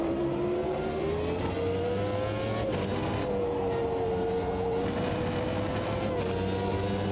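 A classic Formula One racing car engine in Automobilista 2 on a wet track drones loudly at high revs, its pitch rising steadily and dipping briefly at gear changes, continuous with no talking.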